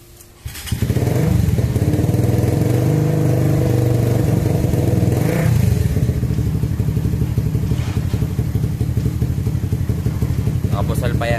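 A motorcycle engine with a racing ECU idling and revving loudly nearby, its exhaust crackling and popping steadily throughout.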